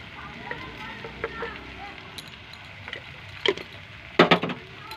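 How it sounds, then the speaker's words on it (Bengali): Potatoes frying in a pan with turmeric powder, ginger and garlic paste, a low steady sizzle broken by scattered clicks and scrapes of stirring, with a louder burst of spatula clatter near the end. "আমরা কিছুক্ষণ ফ্রাই করে নেব"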